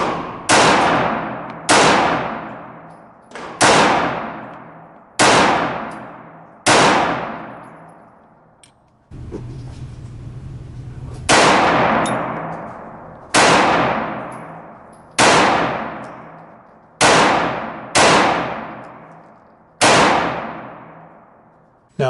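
A Glock 43 Gen 4 9mm pistol fires Blazer 115-grain full metal jacket rounds, about eleven loud, sharp shots with a brief pause midway, each ringing out and decaying before the next.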